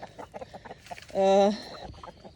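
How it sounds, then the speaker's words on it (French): A hen lets out one loud, drawn-out squawking cluck, with quieter voices murmuring before and after. "comment je reconnais mes poules?"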